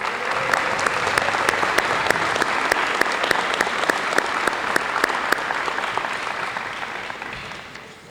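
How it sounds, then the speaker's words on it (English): A school audience at a varsity jacket night gives booster club officers and event coordinators a steady, dense round of applause with sharp individual claps on top, holding strong for about seven seconds before easing off at the end. "Let's give them a round of applause."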